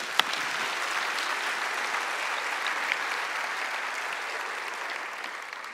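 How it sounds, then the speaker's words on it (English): A church congregation at a Sunday morning service claps together in a steady, even roar of many hands, heard at a moderate distance with no voices rising above it. "it's okay to clap"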